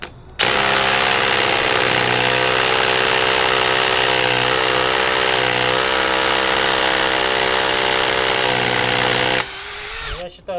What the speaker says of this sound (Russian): На ней стоит обычный бур в бетон.